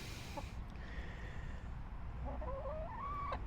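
Backyard chickens peck at frozen berries and watermelon, giving a few soft, quiet clucks and a short rising warble over low background hum.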